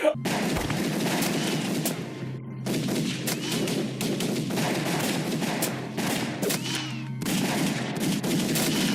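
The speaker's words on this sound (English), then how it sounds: "they all start shooting at him." Heavy gunfire in the low-budget film Vampire Assassin as a group shoots at a vampire, a loud, nearly continuous barrage of overlapping rapid shots with brief pauses between volleys.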